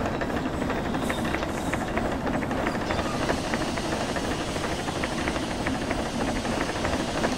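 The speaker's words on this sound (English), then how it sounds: "Water dump, steam dump." Steam locomotive in the Derail Valley train game venting its steam dump, a steady loud broadband hiss filling the whole stretch with constant rushing noise and no pauses.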